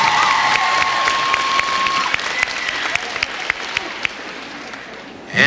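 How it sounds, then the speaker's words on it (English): Audience applause fills a school cheer awards ceremony, dense steady clapping from a crowd that holds for several seconds, with a faint whistle-like tone early on and light cheering mixed in. "A round of applause for Dunlap Valley Middle School."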